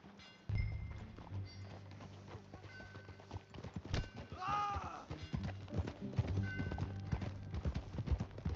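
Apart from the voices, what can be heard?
horse hooves in video game Red Dead Redemption 2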